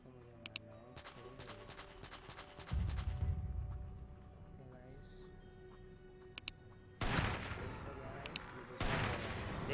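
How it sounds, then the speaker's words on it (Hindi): Gunfire in a shooter video game while taking out two enemies with headshots: sharp shots and heavy booming blasts in two loud bursts over a steady game soundscape. "देखिए गाइस मैंने दोनों को हेडशॉट मार दिया जैसा कि आपने देखा।"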